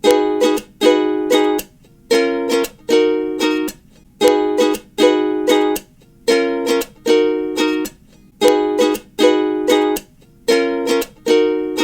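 Ukulele chords strummed in a repeating pattern with crisp percussive slaps between them, steady and fairly loud, played alone without any singing or talking.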